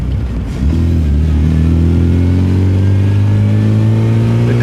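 A British MG sports car engine starts up and settles into a loud, steady rev close by, its deep note rising slightly and holding.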